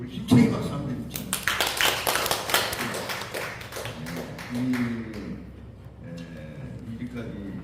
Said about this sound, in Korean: 우리 힘차게 박수 한번 해주죠.